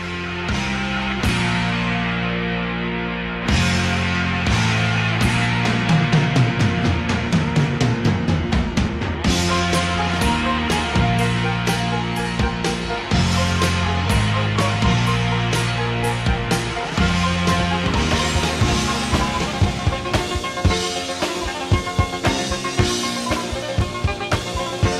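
A song opens with a full rock band intro: driving guitars, bass and drums play steadily and loudly throughout, with no voices.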